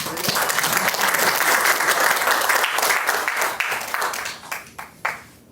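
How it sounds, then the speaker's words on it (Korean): An audience at a university academic symposium applauds to welcome a guest, loud dense clapping that holds steady and then thins into a few scattered final claps. "여러분들 뜨거운 박수로 환영해 주시기 바랍니다"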